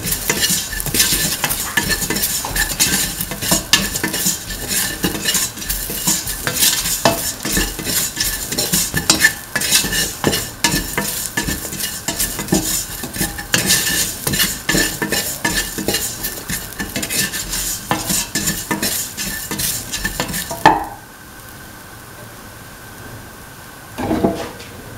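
A spoon scrapes and clinks steadily around a pot, stirring salt and a spice mixture for a kidney bean and potato stew, with faint sizzling beneath, ending abruptly in near quiet.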